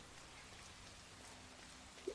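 Steady rain falls in the video game Hitman 3 as a soft, continuous hiss of drops at low level, with one brief small knock near the end.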